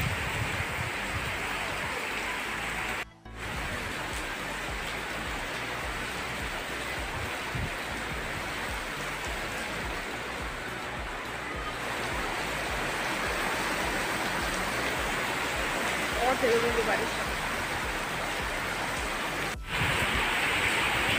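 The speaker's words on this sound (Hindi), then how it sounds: "ये भीगने वाली बारिश है, नहाने वाली बारिश" Steady, dense hiss of rain pouring down continuously, with a brief dropout and no voices.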